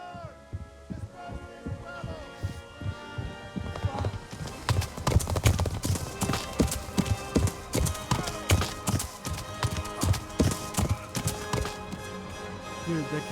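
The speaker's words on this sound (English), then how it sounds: "Dude, the cavalry footsteps were so loud. The horse's footsteps." Loud, rapid hoofbeats of a galloping cavalry horse in the video game Kingdom Come: Deliverance pound in a steady rhythm over a busy backdrop of game music and effects.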